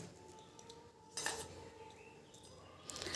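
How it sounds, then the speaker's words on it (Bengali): A knife chops aloe vera leaves into small bits on a board, producing soft, irregular clicks and knocks up close over a faint background, with no voices. "সেইগুলোই এখন ছোটো ছোটো করে কিন্তু আমি কুচি কুচি করে কেটে নিচ্ছি"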